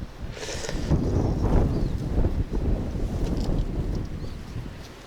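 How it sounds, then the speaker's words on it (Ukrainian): Strong gusts by the Black Sea roar and buffet close to the microphone while fishing, a constant blustery rush with water churning faintly beneath, and no one speaking. "Сьогодні дуже вітряно."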